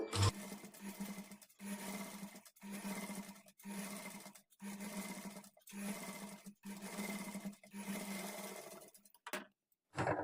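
A domestic sewing machine stitches fabric for thread piping in repeated runs of about a second each, a buzzing whir broken by short silent pauses between bursts, close and moderately loud.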